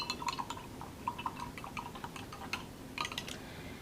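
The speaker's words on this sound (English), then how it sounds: "Okay, so I'm going to rinse my brush." A paintbrush is rinsed in a water container while painting a swan on canvas, giving soft, faint clinks and small watery taps in a loose, irregular rhythm.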